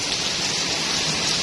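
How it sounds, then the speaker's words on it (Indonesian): Heavy rain pouring down over a village in Hong Kong, a loud, dense and unbroken hiss of water striking surfaces close by, with no voices. "seharian hujan turun tiada henti-hentinya"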